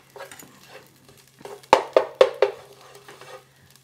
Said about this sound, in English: I'm frying off the tomato paste